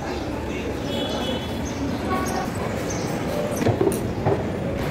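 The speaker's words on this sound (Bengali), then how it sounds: "আমরা চলে এসেছি এখন মেট্রো স্টেশনে" Rail noise fills Dakshineswar metro station as a metro train arrives: a steady, close rumble and whir with faint high squeals and a few brief clanks near the end, under a murmur of background voices.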